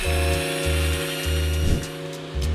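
A power drill with a 4mm bit drilling out the rivet of a Hot Wheels toy car whines steadily at close range, with a low motor hum pulsing on and off in short bursts.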